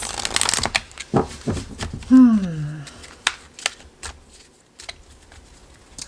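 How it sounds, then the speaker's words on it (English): Archangel oracle cards being shuffled and pulled, a loud riffling flutter of card stock up front followed by lighter slides and taps, with a voice speaking briefly in the middle. "So I'll pull a couple Archangel oracle cards."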